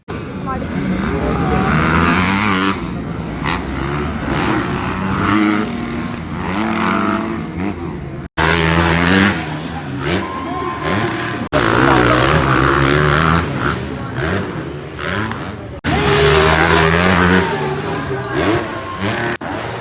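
Supercross motorcycles race on a dirt track, their engines snarling and revving with rising and falling pitch, loud and close, across several abruptly cut stretches of sound.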